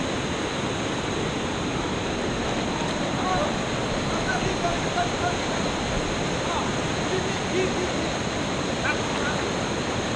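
Water rushes steadily against and around a boat in a full, fast stream, a constant close wash of broadband noise with no breaks for ten seconds.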